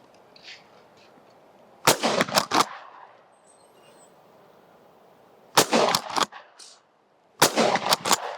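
A shotgun, a new semi-automatic, fired outdoors in three separate bursts of rapid, loud blasts, each a tight cluster of two or three shots, with quiet pauses between.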